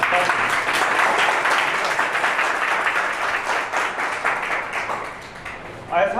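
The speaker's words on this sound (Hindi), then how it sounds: "ऐसा कोई है जिसने ताली ना बजाई?" Students in a motivational coaching class applaud, a loud, dense burst of many hands clapping that holds steady, then thins and fades toward the end before a brief final flurry.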